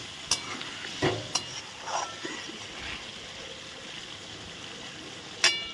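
A spoon stirs a potol curry with yogurt in a pan after water goes in, soft scraping scrapes and clinks at irregular intervals over a faint low simmering sizzle, close and quiet, no talking.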